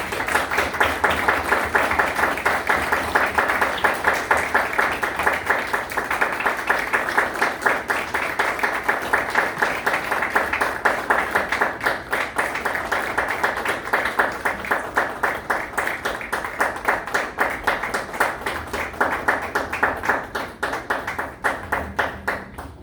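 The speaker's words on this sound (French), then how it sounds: "nous sommes capables d'applaudir." A church congregation claps during a Sunday service, with loud, rhythmic, sustained clapping in a steady beat that carries on without a break and without talk.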